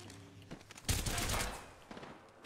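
Gunfire in the video game Apex Legends: a dense burst of automatic shots near the middle, loud and close, with fainter scattered shots before and after.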